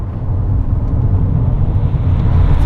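A Jaecoo J7 engine pulls hard in sport mode, a loud, steady low rumble of a car accelerating that builds slightly over a few seconds.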